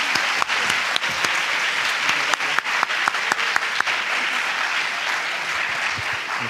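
An audience in a university auditorium, the Aula Magna, applauds steadily, a sustained, even wash of many hands clapping with a few sharper individual claps standing out near the front.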